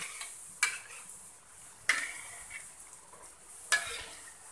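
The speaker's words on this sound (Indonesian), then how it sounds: "Lalu kita goreng sampai warnanya kuning keemasan." Sweet potato balls filled with chocolate fry in plenty of hot vegetable oil over medium heat. A soft, steady sizzle runs underneath three sharp metallic clinks of a utensil against the pan.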